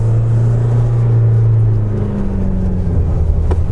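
An Isuzu D-Max 4x2 Auto Plus pickup pulls at full throttle in second gear. A loud, sustained engine drone holds steady, then shifts pitch partway through over constant road rumble.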